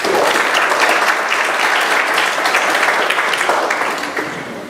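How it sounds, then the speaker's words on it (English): Steady, dense applause from a town hall audience at a Senator Ron Wyden event, filling the room at full strength for several seconds before tapering slightly at the end. "let's give him a round of applause"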